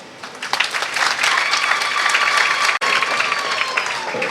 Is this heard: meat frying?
no